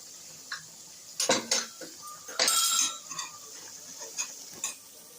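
Spoon scraping and clanking in a cooking pot while ginger-garlic paste is stirred into a country chicken gongura curry, a series of sharp metallic knocks and scrapes up close with faint sizzling underneath.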